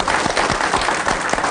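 Audience applauding a young singer's performance, dense continuous clapping from a sizable crowd, steady and fairly loud throughout the short stretch.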